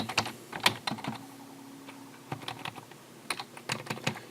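Clicky bursts of typing on a computer keyboard while a code comment is entered, irregular quick keystrokes near and fairly quiet, with a brief pause midway.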